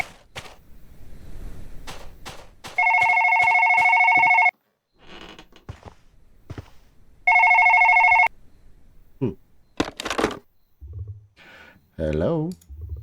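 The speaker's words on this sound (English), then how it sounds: "I really want to eat right now, but I have to answer the phone first." A telephone rings indoors in a Korean home in two long electronic bursts, with clicks and shuffling between them and brief talk near the end.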